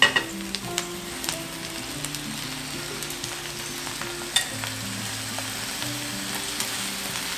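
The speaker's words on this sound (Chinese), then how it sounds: "然后现在炒下之后呢，就可以放入大白菜。" Napa cabbage stir-frying in a hot pan with wood ear mushrooms and carrot, a steady close sizzle broken by scattered clinks of a spatula stirring the vegetables.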